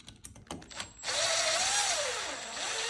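A power drill whirs steadily as it loosens a screw on the back wheel of an Oniva Adventure Wagon, preceded by a few short taps and handling clicks, then a sustained close motor whine with shifting pitch.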